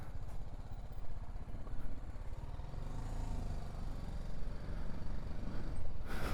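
Motorcycle pulling away on a rough mountain road in Nepal near Muktinath, a low continuous engine rumble that swells slightly as it rides off, with no talking.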